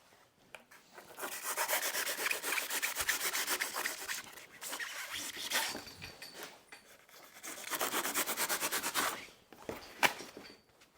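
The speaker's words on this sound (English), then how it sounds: "we're going to quickly smash out its bumper, and then get it all flatted down, ready for primer" Hand sanding works over a fiberglass van bumper to prepare it for primer, giving long rasping strokes in three sustained stretches with short pauses between them.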